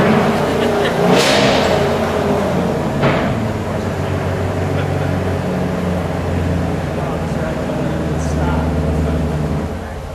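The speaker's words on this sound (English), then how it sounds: "They're warming up your car for you" A car engine revs while warming up at the opening of a college auto lab, a steady loud engine drone with rising revs over a crowd, and people talk nearby throughout.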